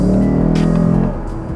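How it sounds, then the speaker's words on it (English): A Lexus RC F Track Edition engine downshifting, a loud, close, low harmonic growl that holds steady, then drops and fades after about a second, with a faint burble continuing. "Oh, great downshift."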